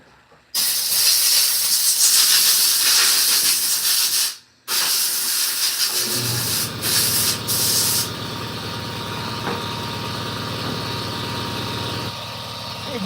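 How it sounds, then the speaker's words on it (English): An air compressor blows a loud, steady hissing jet of air while cleaning a Toro Timemaster mower, briefly cutting out once before a lower rumbling hum takes over. "Hey Google, shut off compressor."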